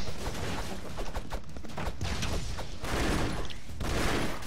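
Rapid gunfire from the side-scrolling action video game Broforce, dense bursts of shots and impacts running continuously and loudly, with game effects layered throughout.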